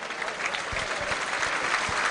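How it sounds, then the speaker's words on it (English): A football stadium crowd at a 2006 Burnley match against Hull City applauds substituted player Wade Elliott, with a steady distant wash of applause lasting throughout and a few louder low thumps mixed in. "Gets a great round of applause."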